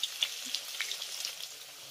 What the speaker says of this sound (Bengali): এই গরম তেলের ভিতরে ছেড়ে দেবো মিডিয়াম সাইজের 3টি আলু